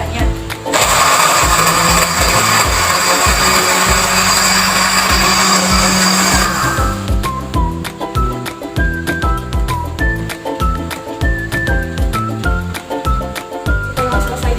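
A blender whirs loudly as it purées garlic and aloe vera with water, a dense steady roar for about seven seconds before it stops, followed by background music with a voice over it.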